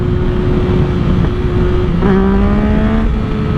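A loud 2022 Yamaha MT-09 motorcycle pulls hard in second gear during a downhill wheelie, its engine note climbing steadily as it revs up close by over rushing wind.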